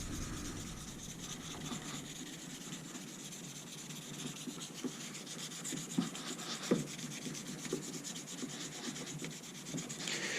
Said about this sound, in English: with these flat sanding sticks, I don't really keep the stick still very much